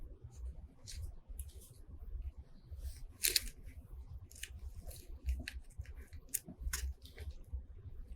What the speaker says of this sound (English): Now I'm using my double angle scissors, and I have the angle pointed out so I don't inadvertently cut into my freestanding lace.